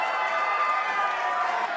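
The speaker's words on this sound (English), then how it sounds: "and listen to this crowd." A live wrestling event crowd roaring in a steady, loud, sustained wash of cheering and noise, with no distinct speech.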